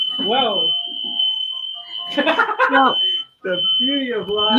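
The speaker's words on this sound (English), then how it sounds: "you can hear the fire alarm going off" Smoke alarm in a kitchen with the stove on fire, a steady high piercing beep that sounds through nearly the whole clip while people talk and exclaim over it.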